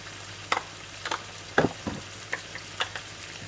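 Red chilies frying in hot oil for chicken karhi, a steady low sizzle broken by several sharp scraping stirs of a spoon against the pan, close and alone.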